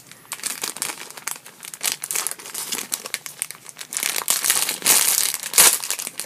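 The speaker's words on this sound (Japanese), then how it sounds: "無理やり取るよりはハサミを使った方が効率がいいですね。" Crinkling and crumpling of a plastic prize bag as it is cut open with scissors, a dense run of close, loud rustling and crackling with a few sharp snips.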